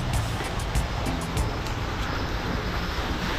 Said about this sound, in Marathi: वरनं पाणी पडतंय आणि त्याच्या आत फॅन फिरतो.